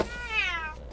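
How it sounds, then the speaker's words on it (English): A single close, clear cat meow, rising then fading, short and distinct with nothing else around it. "This is my cat."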